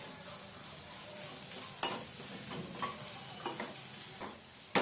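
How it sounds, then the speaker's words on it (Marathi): Sweet modak filling cooked with ghee and a pinch of salt being stirred in a pan, giving a steady sizzle with soft, intermittent spoon scrapes, close and continuous. "आता हे आपल्याला छान मिक्स करून घ्यायचं आहे."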